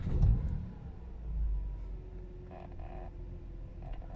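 A BMW E90-series car engine turns over and rumbles to life, settling into a low steady idle with a faint higher whine.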